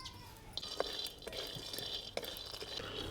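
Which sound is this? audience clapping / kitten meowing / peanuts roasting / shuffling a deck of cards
peanuts roasting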